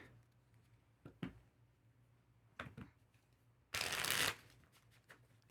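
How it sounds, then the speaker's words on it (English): A deck of cards being shuffled between rounds of a solo board game: a few soft taps, then one loud half-second riffle, close and alone. "So between rounds, you just shuffle up this deck."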